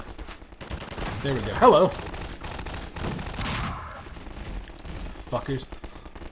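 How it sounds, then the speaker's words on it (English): Machine gun fire in the video game Half-Life 2 breaks out in short bursts against game noise, while someone talks over it. "Let's just stay out of reach of those big machine guns for a minute."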